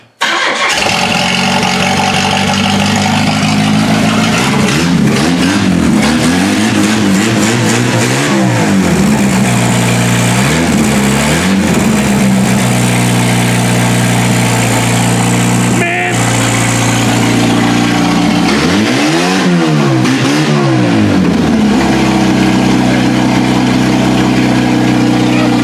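A car engine cranks and catches after a battery is hooked up, then runs loud and close with repeated revs rising and falling over a steady idle, with brief speech in the background.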